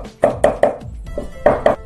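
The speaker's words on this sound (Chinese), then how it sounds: "然后剁成蒜末" A kitchen knife chops crushed garlic cloves into mince on a cutting board, giving sharp, evenly spaced thuds close up, in two short bursts separated by a brief pause.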